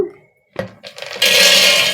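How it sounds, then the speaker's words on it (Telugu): A kitchen mixer grinder coarsely grinds peanuts. After a few soft knocks and clatters, the motor kicks in with a loud, steady whirring roar that runs to the end. "మిక్సీకి పట్టుకుందాము"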